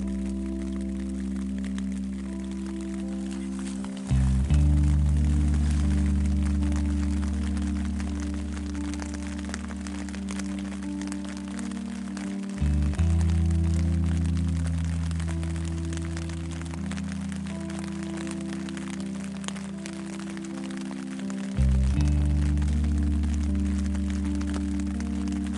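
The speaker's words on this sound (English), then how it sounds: "It's raining really good now." Rain falls on a Snugpak Bunker tent in the middle of the night, a steady patter and crackle on the fabric, with a low droning hum shifting in pitch underneath.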